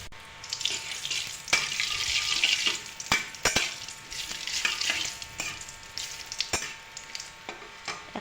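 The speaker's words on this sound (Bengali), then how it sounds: "এখানে আমি কালো জিরা আর শুকনো লঙ্কা ফোড়ন দিয়ে দিলাম" Black cumin seeds and dried chillies crackle and sizzle in hot oil for an eggplant dish, a steady fry broken by several sharp pops and spoon clinks, close and fairly loud, with no voices.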